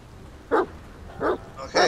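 Three evenly spaced barks from a dog in the video game The Medium, each short and fairly loud, ring out clearly over a quiet background without any speech.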